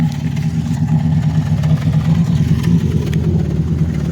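A 1966 Dodge Dart GT barn find, left sitting since 1985, runs with a steady, rumbling engine note close by, holding an even, rough idle-like drone for several seconds.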